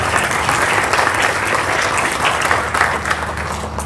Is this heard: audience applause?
yes